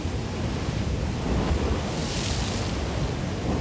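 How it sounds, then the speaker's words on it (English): Strong wind buffets the microphone over the steady roar of big waves crashing across a rock formation on the coast near Alghero, Sardinia, with continuous dense noise and no voices. "the winds were quite strong and there were some quite big waves coming over the rock formation"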